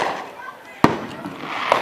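Active fireworks go off outdoors, with two sharp bursts of firecracker-style bangs over steady crackling and background noise, while people talk nearby.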